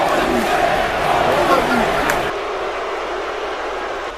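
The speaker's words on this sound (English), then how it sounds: "The crowd are chanting holy shit, and I cannot blame them at all." Wrestling event crowd chanting in an arena, a loud, dense wash of massed voices that fills the space, then drops abruptly to a lower, steadier roar partway through.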